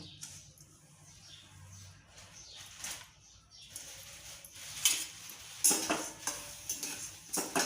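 Dry moong dal scrapes and rattles as it is dry-roasted without ghee and stirred around a kadai on a gas stove, with a soft sizzle and occasional sharper clinks of a spoon.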